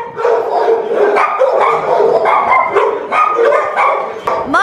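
A dog barks repeatedly in quick, loud, close bursts, with yips and whimpers mixed in, near a large dog transport crate.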